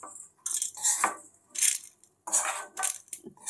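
Fried ingredients for ginger chutney are scooped from a pan into a steel mixer grinder jar, giving several bright clinks and scraping bursts of metal on metal, close and fairly loud, with short pauses between.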